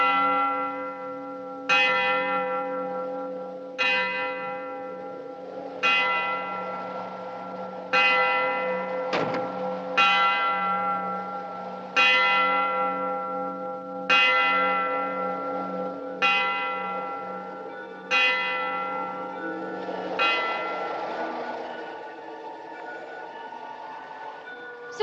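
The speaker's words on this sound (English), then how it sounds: "did you hear the bell?" A church bell tolls about a dozen slow, evenly spaced strokes, each ringing out and decaying before the next, loud and clear with a steady hum underneath.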